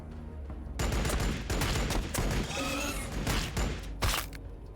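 Assault troops in Warhammer 40k Battlesector open fire in a loud fusillade of rapid gunshots and thuds, bursts stacking over one another after a quieter start.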